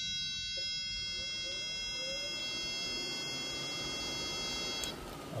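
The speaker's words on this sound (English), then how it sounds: "Okay, so we're hearing the fan running." An electric fan powered by an Autel PS100 diagnostic tester runs with a quiet, steady whir beneath a continuous high-pitched electronic buzzer tone that holds throughout.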